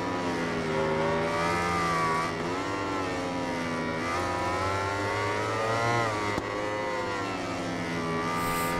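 MotoGP 20 racing motorcycle engines at the KymiRing circuit, whining high and steady with rising and falling pitch through a long corner, loud and close, the bikes accelerating back onto the power with no talk over them.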